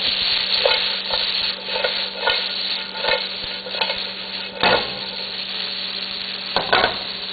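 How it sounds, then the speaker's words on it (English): Fajita vegetables sizzle steadily in a hot pan, with repeated bursts of scraping and tossing every second or so over a constant frying hiss, fairly loud and close. "Don't move it around too much or else you won't get any caramelization on any of the veggies"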